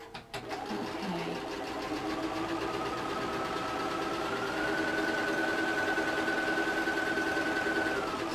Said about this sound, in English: So I'm chain piecing those like that